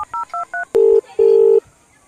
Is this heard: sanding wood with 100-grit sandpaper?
no